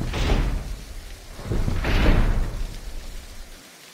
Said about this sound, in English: let's break down the door